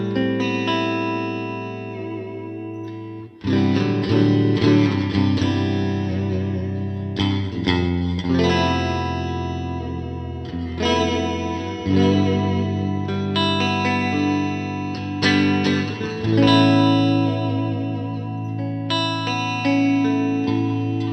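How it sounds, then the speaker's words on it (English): Fender Custom Shop '59 Jazzmaster on its middle pickup setting, neck and bridge together, played through a Fender Tone Master Super Reverb amp: clean, reverb-washed electric guitar strumming chords and picking single notes at a steady level, with no voices. "straight into the middle, which is the neck and bridge at the same time"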